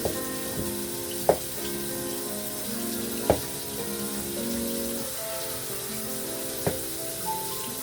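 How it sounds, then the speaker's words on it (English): A tap runs steadily as chicken feet are rinsed beneath it, with a few sharp knocks and clinks against the sink. "So we're gonna get it washed right now"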